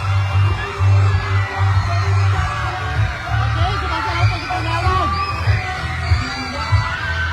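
A parade crowd in Ballesteros, Cagayan, a loud, busy mix of many voices with occasional whoops and yells over a low rhythmic throbbing, with people talking nearby throughout.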